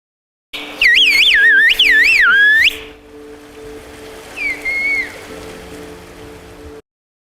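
Turkish whistled language: loud, sliding, warbling whistles carrying a message for about two seconds, then a softer, more distant whistled reply over a steady hum and outdoor background.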